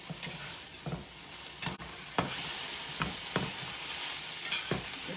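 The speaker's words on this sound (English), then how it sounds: "you add the cooked noodles and the sauce and the tofu and combine it all and let it heat through" Cooked noodles, sauce and tofu stirred in a hot pan, with a soft steady sizzle and a series of scraping stirs at an irregular rhythm, close and fairly quiet with no talking.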